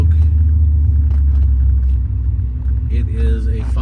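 A 1998 Aston Martin V8 Coupe with a 5.3 liter four-valve V8 idles with a deep, steady rumble close by, and a voice talks briefly over it near the end.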